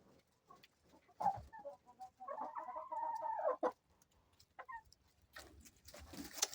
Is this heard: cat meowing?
no